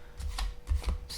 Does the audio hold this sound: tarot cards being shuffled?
yes